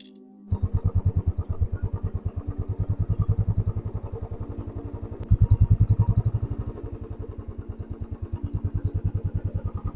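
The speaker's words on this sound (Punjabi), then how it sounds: "ਮੋਟਰਸਾਈਕਲ ਆਰਦਾ ਜੀ" A motorcycle engine chugs steadily close by with a regular pulsing beat, swelling louder for a moment midway before settling back to a steady idle rhythm.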